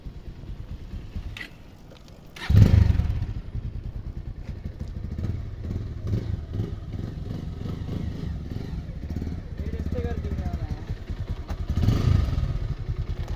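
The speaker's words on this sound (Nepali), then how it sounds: "बाइक चलाउनु मात्र हुन्छ नि।" A motorcycle engine runs steadily nearby for the whole stretch, its rumble swelling into louder revving bursts near the start and again toward the end, with occasional clattering and no speech.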